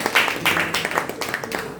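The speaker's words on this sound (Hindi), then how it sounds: "तो एक बार इस बात पे तालियां हो जाए।" An audience at a Hindi literary theatre gathering breaks into a short burst of lively, fairly close applause, many hands clapping together for under two seconds.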